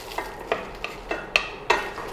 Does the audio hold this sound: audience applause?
no